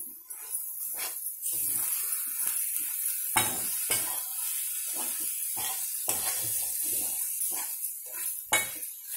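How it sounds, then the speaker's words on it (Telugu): Tindora and onion sizzle steadily in a hot pan, a loud continuous hiss broken by repeated scrapes and clinks of a spoon stirring against the metal. "బాగా వేగుతుంది కదా"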